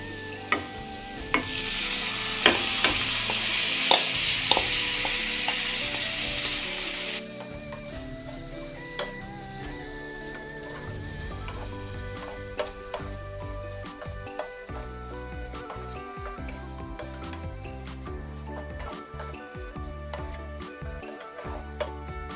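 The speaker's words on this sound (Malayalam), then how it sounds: "ഇനി ഇതിലേക്ക് നമുക്ക് ക്ലീൻ ചെയ്ത് വെച്ചിരിക്കുന്ന കക്ക ഇട്ട് കൊടുക്കാം." Cleaned clams tipped into a hot pan and frying for a clam roast, a bright burst of sizzling at first that settles into a lower crackle with scattered ticks and stirring taps, close and wordless.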